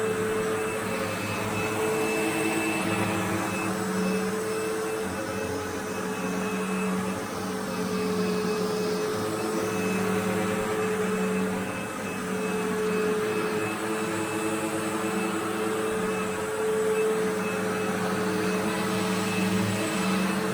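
A vacuum cleaner, one of an Electrolux, Sebo or G Tech, runs steadily and loudly throughout, its motor drone joined by the whirring hum of a spinning brush roll, with no pauses.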